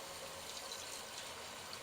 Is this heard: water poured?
yes